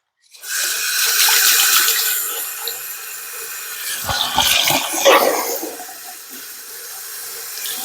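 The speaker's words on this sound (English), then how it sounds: "Let me just rinse off real quick here." Tap water runs into a bathroom sink while a face is rinsed after shaving, a steady close hiss with splashing bursts partway through, no talking.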